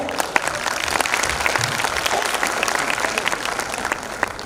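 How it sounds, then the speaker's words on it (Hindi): School annual function audience welcomes performers with loud continuous applause and scattered cheering, a thick wash of clapping throughout. "तालियों और चीयर्स के साथ इनका स्वागत किया जाए"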